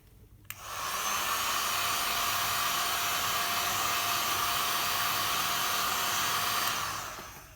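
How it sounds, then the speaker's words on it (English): A heat gun switches on with a click and blows a loud, steady, close airflow whine over an acrylic paint pour, holding evenly for several seconds before cutting off. "now I'm gonna use my heat gun"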